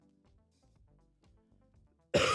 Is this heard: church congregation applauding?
no